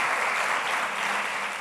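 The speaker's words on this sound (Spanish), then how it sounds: "le damos un aplauso al Señor" A brief burst of dense applause from a church congregation during a Sunday service, loud and steady throughout.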